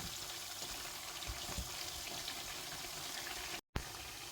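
Indonesian-style peanuts frying in hot oil, a dense, steady crackling sizzle heard close and constant, with one brief drop-out near the end.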